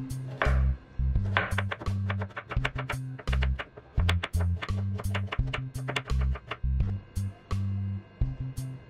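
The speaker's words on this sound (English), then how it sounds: "Slice the onions." Onions sliced with a knife on a cutting board for a Northeast Indian mashed potato dish, a quick run of sharp, close chopping taps in uneven bursts with short pauses, loud and alone.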